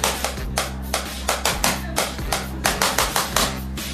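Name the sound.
hand clapping and tapping imitating galloping horses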